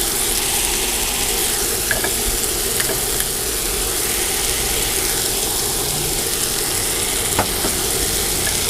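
Pork chops in salad dressing sizzle steadily in a pan on a NuWave induction cooktop, a continuous dense crackling fry with faint occasional clicks, close and even throughout.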